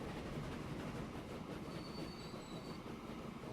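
Passenger train in the Transport Fever video game rolling along, a steady rumbling rail noise with faint high wheel squeal, moderately quiet and continuous, without voices.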